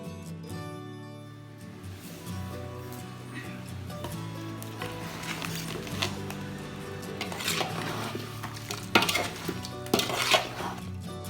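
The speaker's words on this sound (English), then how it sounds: "Mix well." Mandi masala powder is stirred into a pot while cooking spicy chicken Mandi, a spoon scraping and knocking against the metal over a faint sizzle, with the clatter getting busier and louder toward the end.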